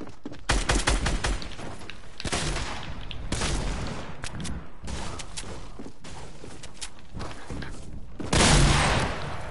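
Rapid, loud gunfire rattles through a Fortnite Battle Royale match, with repeated close bursts and sustained automatic fire nearly throughout, punctuated by heavier booms toward the end.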